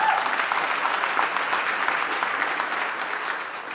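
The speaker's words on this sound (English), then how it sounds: "yes, that's a round of applause" Audience gives a round of applause during a speaker introduction at an event, steady dense clapping from a sizeable crowd that gradually eases off toward the end.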